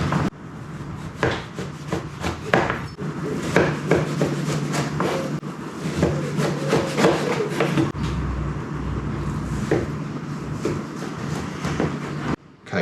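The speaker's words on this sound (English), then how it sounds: "It wants us to make 12 equal slices, get rid of any of the round edges" A knife saws through a firm, frozen sponge cake for lamingtons, dividing it into 12 pieces: a steady, close rasping scrape with repeated strokes and no talking.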